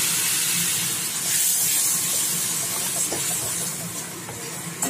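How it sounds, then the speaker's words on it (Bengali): Coconut milk is poured into a pan of sizzling fried spice masala for a Bengali prawn curry, producing a loud, steady hissing sizzle that continues without a break and carries no speech. "এবার একটুখানি নারকলের দুধ দেব"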